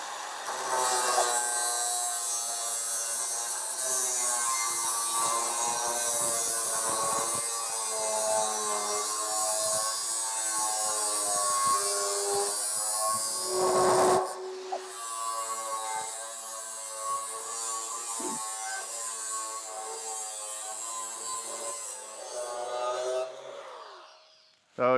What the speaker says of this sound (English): So we got 5 cuts on a 6-inch grinding disc on 18 gauge steel plunge cutting